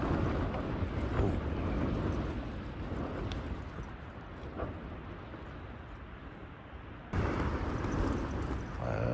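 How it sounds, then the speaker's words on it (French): Strong Mistral wind gusts buffeting a Hilleberg Soulo tent, a loud, continuous roaring rush that dips briefly and then surges back hard near the end. "Ça souffle bien là, hein. Ça c'est de la bonne rafale."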